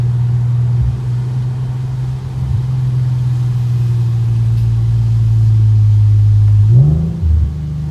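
An Infiniti Q50 engine drones with a strong low exhaust rumble, then climbs in pitch as it accelerates near the end, with a brief rough crackle as the revs change.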